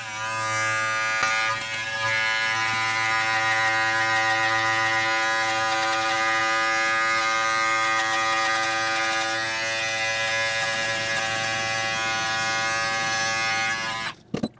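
Electric hair clippers with a one guard buzz steadily and close up while cutting hair for a hightop fade, a constant tonal drone that holds evenly before cutting off abruptly at the end.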